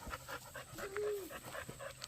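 A dog pants rapidly and steadily close by, quiet breathy huffs in an even rhythm, with a brief faint whine in the middle.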